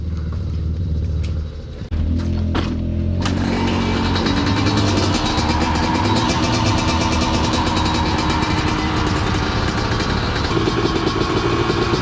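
A Yamaha YZ dirt bike catches on a bump start at an off-road park: a brief low rumble, a few sharp sputters, then the engine fires into a loud, sustained close-up roar that keeps revving.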